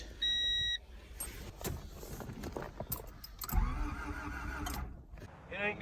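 A 1989 Honda Civic being revived starts up: a door chime, then keys rattling and the starter cranking before the engine catches into a rough, rising idle. The sound is close and moderately loud, with a brief low voice at the end.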